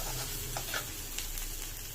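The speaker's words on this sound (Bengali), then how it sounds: "তো পেঁয়াজটা একটু ভাজা ভাজা করে নিচ্ছি।" Onions frying with nigella seeds in a small amount of oil, giving a soft, steady sizzle throughout with a few faint crackles.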